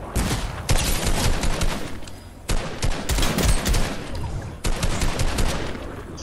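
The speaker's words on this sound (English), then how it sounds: "I'm gonna start shooting." Gunfire from the video game Fortnite comes in several loud, close bursts of rapid fire separated by brief pauses, with no speech.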